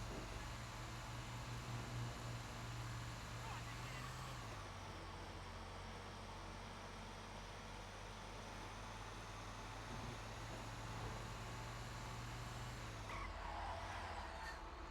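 A garbage truck drives in Grand Theft Auto V, its engine a continuous low drone that shifts pitch as it changes speed, over a faint background hiss.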